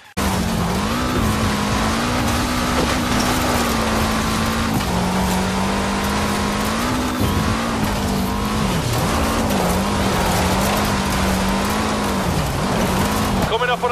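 Car engine in Forza Horizon 4 roaring continuously at high revs, the pitch dipping and climbing through gear changes and a jump, loud and steady with tire noise throughout.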